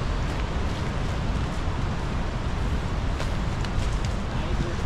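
Steady rain falls outdoors in a continuous dense hiss, close and fairly loud, with gusty wind noise on the microphone, along a ride route toward Manali.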